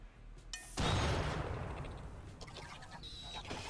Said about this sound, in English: This is the second fire trap.